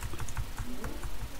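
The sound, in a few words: typing a router command on a computer keyboard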